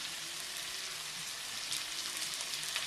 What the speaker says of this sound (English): we're just going to drop this right here into our other pan with the hot oil